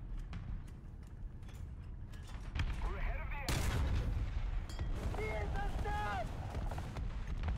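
Artillery fire in a tank video game, sharp booming blasts with a loud impact partway through, mixed with mechanical rumble and someone talking over it.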